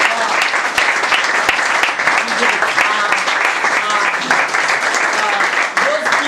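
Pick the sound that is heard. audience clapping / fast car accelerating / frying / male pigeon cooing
audience clapping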